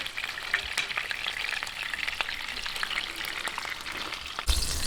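Chopped onion and garlic sizzle steadily in hot oil in a pan, a close, continuous frying hiss with occasional stirring clicks, ending in a sudden louder burst as more goes in.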